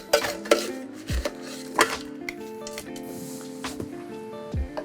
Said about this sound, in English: we're just gonna top this up with crushed ice.